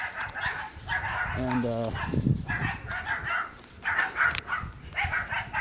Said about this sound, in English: got some little doggies that wants to be on YouTube too